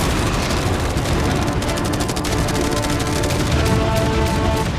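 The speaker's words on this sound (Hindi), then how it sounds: "इन सभी मशीन गन्स के साथ वहाँ पर है पूरे 100 कैनन्स" Dense, continuous rapid gunfire and booming cannon shots from a video game battle, loud and unbroken with rattling bursts layered over a constant roar, without speech.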